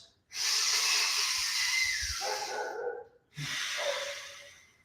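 Deep, slow breaths during a plank hold in breathwork training: a long, loud airy inhale or exhale of about two seconds, a short pause, then a second strong breath, close to the microphone with no talking.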